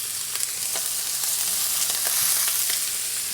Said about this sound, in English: here's the chicken. That's what you want to hear. A nice sizzle.